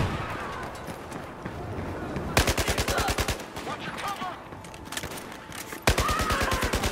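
Battlefield 4 gunfire crackles in fast repeated volleys: a lighter distant exchange first, then two loud close bursts of rapid automatic fire, with voices talking underneath.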